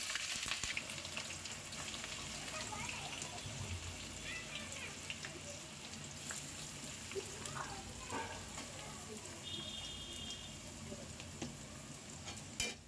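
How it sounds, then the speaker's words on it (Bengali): Chopped ginger and fried chili sizzle hard in hot oil for a water spinach dish, a steady, close, continuous crackle with faint stirring scrapes and no talking. "তেলের মধ্যে আদা কুচিটা দেওয়ার সাথে সাথে এত সুন্দর একটা ফ্লেভার আসছে"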